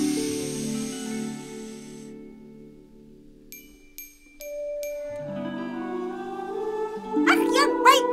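Magical fairy silver dust is blown in a Polish musical audio fairy tale of Peter Pan: four quick tinkling chime notes sound over soft orchestral music, followed by airy sparkling whooshes near the end.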